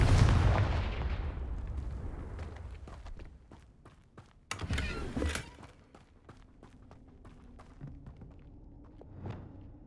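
Confringo spell blast in Hogwarts Legacy, a deep booming explosion that rolls off into a long rumbling decay, followed by a second sharp crackling burst and scattered footsteps and thuds.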